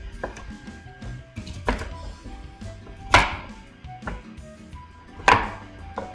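A knife chops sweet potatoes into big couple-inch chunks on a board, with several close, irregular thuds, two of them sharper and louder than the rest.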